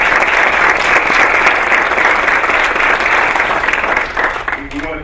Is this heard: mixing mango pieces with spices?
no